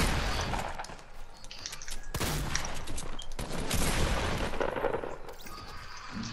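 Video game gunfire in bursts and rapid volleys, with sharp cracks and heavier booms packed close together, loud and near, with no talking.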